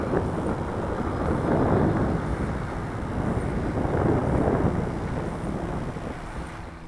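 High wind buffets a Freewing Rebel V2 RC plane in flight, a steady, loud roar of gusty rushing noise that swells and eases slowly, with a faint motor whine underneath.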